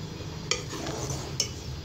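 Cardamom and vermicelli being stirred in a pan over high flame, two sharp metallic spoon taps against the pan over a low, soft frying hiss.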